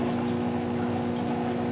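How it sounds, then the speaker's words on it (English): An aquarium powerhead pump runs submerged in a fish tank, giving a steady, close electric hum with a faint watery churn and no break across the clip. "placing the line in the tank and putting it into your power head"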